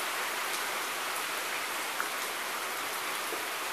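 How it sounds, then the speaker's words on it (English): Rain falling steadily outdoors, a dense even hiss of drops with no pauses, close and moderately loud throughout, with no talk. "Here comes the rain again."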